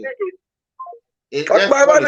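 A few short telephone dialing tones beep in quick succession, then a burst of nearby speech takes over.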